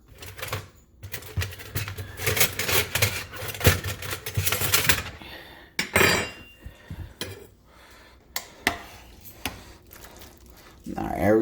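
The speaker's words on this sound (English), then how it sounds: "I'm going to stir this up a little bit." A spoon stirs chicken and biscuits in a pot, giving clustered metallic clinks and scrapes that come in bursts with pauses between them, close and fairly loud.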